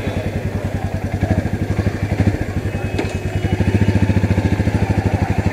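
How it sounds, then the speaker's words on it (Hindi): A Royal Enfield Meteor motorcycle engine fires up and settles into a steady, thumping single-cylinder idle, loud and close, with rapid even pulses throughout. "बाइक को ऑन कर रहा हूँ"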